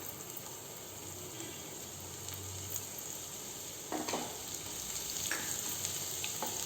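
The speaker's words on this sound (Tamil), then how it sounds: "சீரகம் பொரிஞ்சதும் நம்ம கட் பண்ணி வச்சுருக்குறோம் இல்லைங்களா பூண்டு, அது இது கூட சேர்த்துக்கலாம்" Cumin seeds and chopped garlic fry in hot oil with a soft, steady sizzle, fairly faint and close, with a few light stirring scrapes later on.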